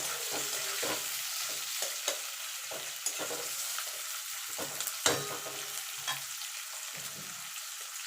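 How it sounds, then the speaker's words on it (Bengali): Chopped onions sizzle in a pan for a mutton curry, a steady frying hiss broken by several scraping stirs of a spoon, close and without talk. "এবার পেঁয়াজটাকে ভালো করে লাল লাল করে ভেজে নেব।"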